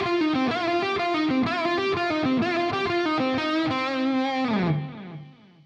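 Distorted electric guitar lick with string bends from the major third up to the fourth, a quick run of picked notes ending on a sustained bent note that fades out, alone and clear.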